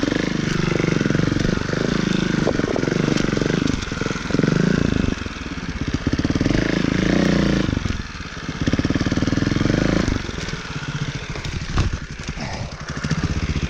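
A 2018 Beta Evo Factory 300 4T trials motorcycle engine running close by, a loud, continuous four-stroke drone that dips and swells as the throttle shifts, with brief lulls before picking up again.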